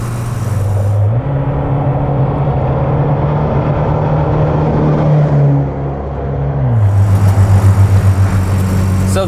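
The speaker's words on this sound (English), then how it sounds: "So this car has the 4-speed automatic in it still. And that's why it's accelerating." A 1994 Toyota pickup with a 4-speed automatic accelerates on the road, its engine droning loud and close, rising through a gear change midway and then pulling again with a pulsing rumble.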